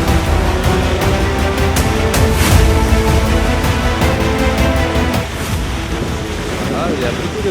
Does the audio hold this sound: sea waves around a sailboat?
yes